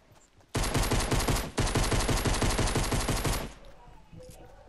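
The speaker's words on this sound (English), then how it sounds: "Somebody's shooting at me." Rapid automatic gunfire in Fortnite, a loud close burst of about three seconds with a brief break near the start, then fading into quiet game ambience.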